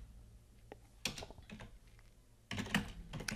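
Two short bursts of typing on a computer keyboard, recorded while setting up Windows Server 2019 in VirtualBox, with quick clustered key clicks around one and two and a half seconds over a faint background hum.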